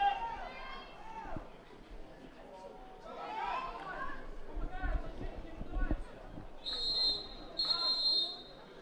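The umpire at a girls' U18 basketball championship final between France and Belarus gives two loud, sharp whistle blasts near the end, over crowd chatter, squeaking shoes and a commentator talking.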